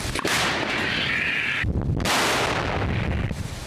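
A heavy artillery cannon shot booms close by, followed by a rumbling, roaring blast that fills the air.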